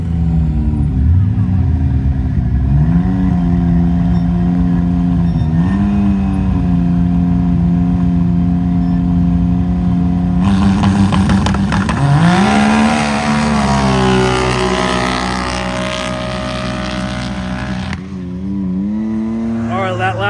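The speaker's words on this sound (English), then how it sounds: "So we're going to get this thing out and go rip it." A race car engine idles with a deep, loud drone, then revs up sharply with rising, sweeping pitch and sustained high-rpm roar before settling back, heard close and dominating throughout.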